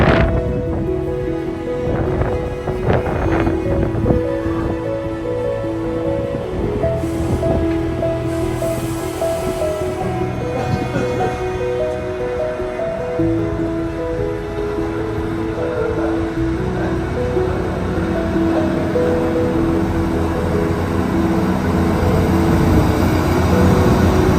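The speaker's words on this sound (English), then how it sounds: "It's a beautiful day, but very windy actually." Strong wind buffets a railway station platform on a bright day in Cornwall, a steady loud rushing roar filling the whole stretch with low rumbling gusts and no talk.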